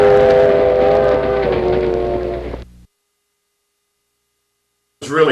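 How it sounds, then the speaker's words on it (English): A steam train passes in old 1960s film footage, its loud rumble and horn-like tones sounding close for a few seconds before the sound cuts out abruptly, followed by silence and then a brief burst of noise. "you had the foresight to capture the train as it steamed its way east"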